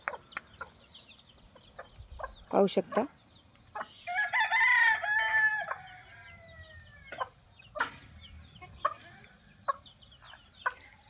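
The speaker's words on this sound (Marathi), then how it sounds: "ही कोंबडी आहे ना ती तिच्या पिल्लांना कशी बोलवते बघा." Farmyard hen clucking to call her chicks, with repeated short clucks and a loud rooster crowing nearby partway through, other fowl calling around, and a brief spoken phrase.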